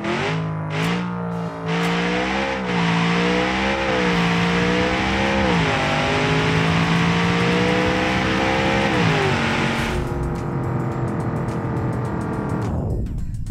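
A 1719-horsepower 7.8-litre twin-turbo V8 drag car in BeamNG.drive roars hard under full throttle, its loud engine note climbing through several gear-change dips before cutting off abruptly near the end.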